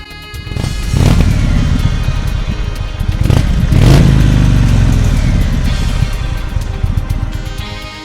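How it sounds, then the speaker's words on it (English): An Indian Chief Dark Horse motorcycle revs loudly and close by through its stock 2-into-2 parallel exhaust, with two sharp throttle blips followed by a deep, steady rumble that slowly settles back toward idle. "the Dark Horse has a 2-into-2 parallel exhaust, and the stock exhaust doesn't sound too bad"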